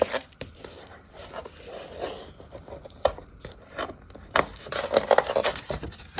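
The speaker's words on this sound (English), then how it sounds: "After you score it, fold it." Scored material for a no-sew journal base being folded, heard as close, papery rustles, creases and scrapes in irregular bursts that grow busier toward the end, with no talking.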